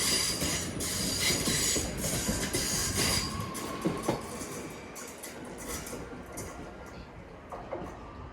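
A Class 323 electric passenger train rolls past Cheadle Hulme station toward Manchester Piccadilly with a rushing roar, rhythmic wheel clatter and brief high squeals, loud at first and then easing off.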